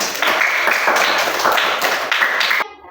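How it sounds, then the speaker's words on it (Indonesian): A class claps in a steady patterned rhythm, loud and close, with repeated bursts filling almost three seconds before cutting off sharply. "Tepuk tangan dulu untuk kita semua."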